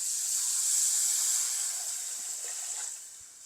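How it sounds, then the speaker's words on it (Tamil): Water pours steadily into a pot for fish curry with a soft, hissing rush that fades slightly toward the end, with a few faint clinks. "தண்ணி கொஞ்சம் சேர்க்குறேன்"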